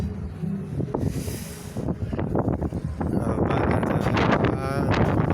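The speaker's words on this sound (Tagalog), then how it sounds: "Lakas ang hangin." Strong wind buffeting the microphone with a rough, rumbling roar, gusting unevenly throughout with a brief hiss of rushing air.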